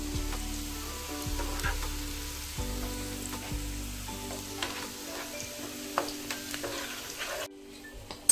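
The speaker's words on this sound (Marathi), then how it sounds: "दोन्ही ठिकाणी कांदा भाजतायत," Onions fry in hot oil in two pans with a strong, continuous sizzle and occasional stirring scrapes, fading to quieter hiss with light clicks near the end.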